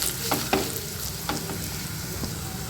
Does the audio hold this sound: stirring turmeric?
yes